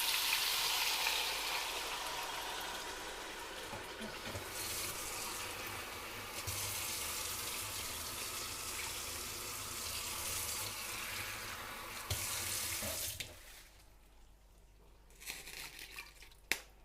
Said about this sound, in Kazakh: Суымызды құйып болдық.